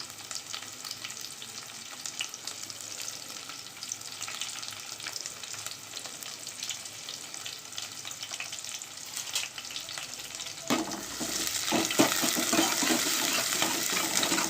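Green chillies and crushed garlic frying in a pan for mixed dal, a steady close sizzle with crackles, swelling louder and brighter near the end, with no talking.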